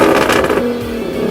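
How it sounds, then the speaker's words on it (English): Nissan G37 sedan fitted with a Motordyne Shockwave catback exhaust, giving a single loud, raspy, close-up rev that drops back toward a throaty drone. "this is probably the loudest exhaust you guys have ever heard"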